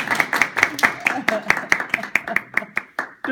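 A small audience claps again at a tech talk, a loose run of sharp, fairly close hand claps with people's voices mixed in underneath.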